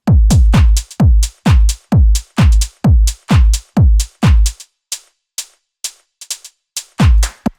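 Layered hi-hats in a minimal deep tech track, crisp ticks on the offbeats with swing and softer lower-velocity accent hits, heard loud and alone over a punchy repeating low thump that drops out briefly midway.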